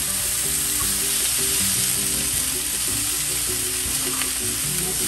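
Sliced peppers, squash, celery and basil sizzle and fry steadily in a pan, a loud continuous crackling hiss heard close up with faint stirring and clinks underneath, no talk.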